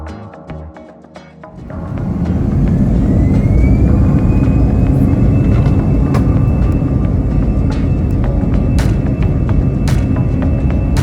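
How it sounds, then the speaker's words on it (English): An Air France airliner taxis out for takeoff from Martinique, its engines rising into a loud, steady jet roar with a whining tone that holds constant close by, no voices over it. "we taxied out for takeoff from Martinique"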